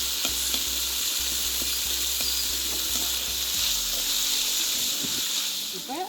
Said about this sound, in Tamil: வெங்காயம் அதை வறுப்பேன். பொன்னிறமாக வரும் மட்டும் வறுப்போம்.